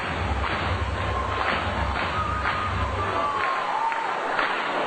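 A baseball crowd on its feet cheering at a minor-league game late in a combined no-hitter, a broad, steady roar of voices heard from a distance with wind-like noise and a faint announcer under it.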